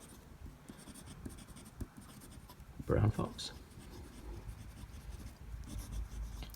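A fountain pen scratches softly across smooth Optics paper in continuous strokes, with a brief louder scrape near the middle, while a person speaks over it.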